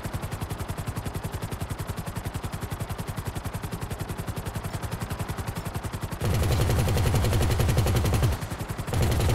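Mounted guns on a weaponized Conada helicopter in GTA V firing in long rapid bursts, a dense mechanical rattle of evenly spaced shots that briefly swells louder near the end before continuing.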